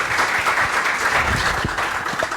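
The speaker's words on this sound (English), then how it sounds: "I think we'll give them a round of applause." Audience applause fills a conference hall at a World Consumer Rights Day 2024 event after a panel session on ethical AI design, a steady, dense wash of clapping from many hands that stays even throughout.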